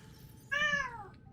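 A single cat gives one short, clear meow that rises and then falls, standing alone above a faint low background hum.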